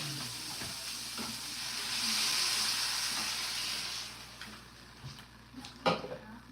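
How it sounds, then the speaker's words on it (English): Water poured into a hot pot of beef chunks, sausage, corn and vegetables in red sauce sets off a loud hissing sizzle that swells, then fades into softer bubbling with a few clinks of a utensil against the pot. "Now we add the water."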